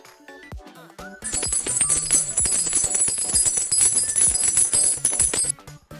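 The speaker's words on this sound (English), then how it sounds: "Coins falling." Coins pour and clatter continuously for several seconds, a dense bright metallic jingling that rises sharply, holds steady, then stops abruptly.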